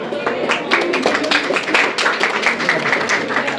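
A large audience claps together at a medical college white coat ceremony, dense, loud, sustained applause filling the whole moment.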